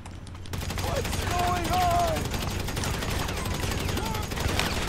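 Rapid bursts of gunfire, including a Kalashnikov rifle, crackle through a dense, busy GTA Online soundscape, with a low steady hum underneath and some faint voices.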